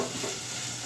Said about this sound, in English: while those are sauteing down